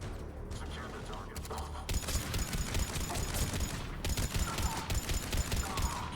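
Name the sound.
gunfire in video game Mass Effect 3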